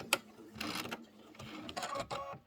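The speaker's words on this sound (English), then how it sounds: "I'm going to start up here, and then I'll back stitch" A sewing machine back stitching through a tote bag runs in short bursts, stopping and restarting as it reverses direction, fairly quiet and close with no talking.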